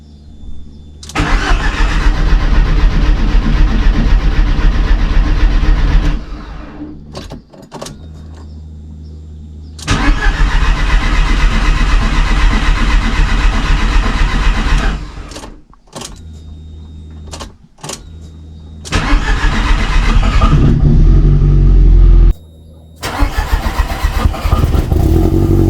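A Volkswagen Golf engine cranks and fires several times in a row, each start catching into a loud, close idle before cutting off, with brief quiet gaps between the runs.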